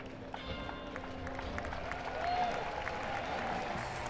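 Stadium crowd at an Arkansas versus Ole Miss college baseball game roars and claps in a steady, swelling wash, loud and continuous, with scattered shouts rising midway through the ninth inning.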